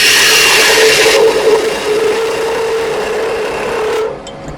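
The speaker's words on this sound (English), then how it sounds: "Now my Doug Thompson spindle gouge. Start the rounding over process." A Doug Thompson spindle gouge rounds over a spinning wooden pizza handle on a lathe, making a loud steady scraping rasp over the motor hum that softens partway through and cuts off near the end.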